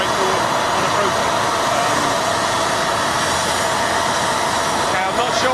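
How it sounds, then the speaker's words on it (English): A loud, high-pitched jet engine roars steadily at London Gatwick Airport near an Aurigny ATR72-500, a dense continuous whine that fills the whole stretch with only a slight swell near the end. "that's quite a loud loud jet engine, isn't it, in the back of it?"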